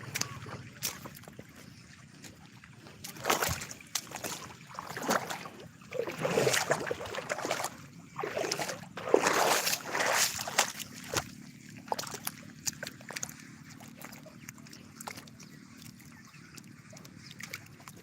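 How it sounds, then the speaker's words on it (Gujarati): Water pouring over an overflowing dam after unseasonal rain: a rushing, sloshing roar that swells in surges, moderately faint and heard alone. "પાણીનો અવાજ આવતો હશે તમને"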